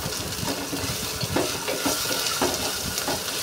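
Chopped onions with ginger garlic paste fry in a pan for a sorrel leaf chicken curry, sizzling steadily while a utensil stirs and scrapes through them in several clear pushes, close and moderately loud.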